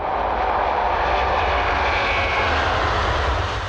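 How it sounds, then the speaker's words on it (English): An Airbus A380 airliner roars through its takeoff run, a loud, steady, broadband jet-engine rumble that holds at full power throughout with no other sounds. "Stabilized. Take off. Despite its gigantic proportions, the A380 does not need a longer runway than any other wide-bodied aircraft."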